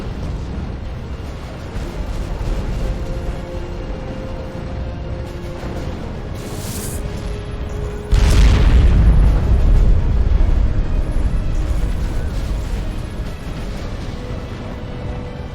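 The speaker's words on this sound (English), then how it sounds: "large explosion there" Space battle explosions in the strategy game Sins of a Solar Empire: Rebellion rumble under a steady background hum, with one heavy boom landing midway that sustains a loud roar for several seconds before easing off.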